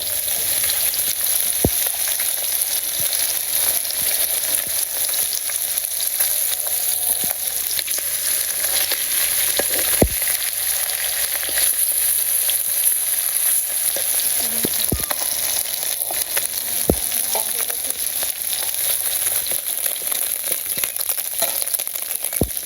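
Fish fries in a pan with a loud, steady sizzle and crackle throughout, broken by occasional sharp utensil taps.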